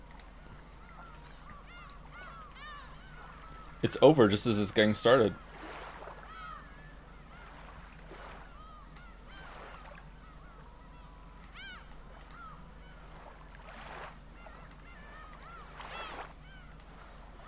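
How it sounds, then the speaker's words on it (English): A bird sound effect from the video game Persona 3 Reload gives one loud honking, squawking burst lasting about a second, and someone talks quietly around it. "that is a short sound file with the birds"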